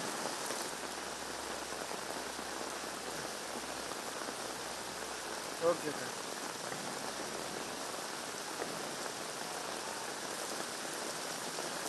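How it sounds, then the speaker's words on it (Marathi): Steady, dense monsoon rainfall pours down in Mumbai throughout, a continuous broadband hiss of heavy rain on surfaces, with a brief spoken reply near the middle. "सध्या मुसळधार पाऊस बरसतोय"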